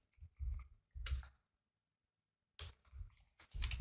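Bursts of quick, crisp clicks from a computer keyboard as a file title is typed, in three short runs separated by a clear pause of silence.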